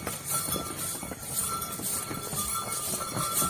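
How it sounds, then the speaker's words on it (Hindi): Horses' hooves clip-clopping on the stone path descending from Vaishno Devi, irregular hoof strikes amid a busy outdoor hum and crowd noise, moderately loud and continuous. "हमको आखिरकार घोड़े मिल ही गए, तो अब घोड़े से नीचे उतर रहे हैं"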